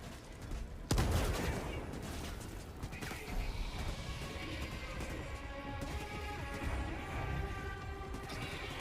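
Gunfire in a video game as soldiers shoot at the ground, opening with a sharp crash of shots followed by sustained, dense rattling fire and impacts, loud and close throughout.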